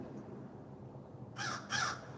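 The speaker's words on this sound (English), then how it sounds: "You hear the crows, right, Carol?" Two harsh crow caws ring out in quick succession over quiet outdoor background noise, fairly close.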